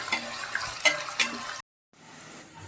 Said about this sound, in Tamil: ஆயிலில் வெங்காயத்தை நல்லா ஃப்ரை பண்ணிக்கணும்